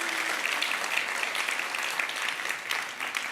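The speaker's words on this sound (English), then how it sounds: "Let's give another round of applause to our great orchestra team here." A concert hall audience at an arangetram gives the orchestra a round of applause: steady, dense clapping that holds for the whole stretch, with no voices over it.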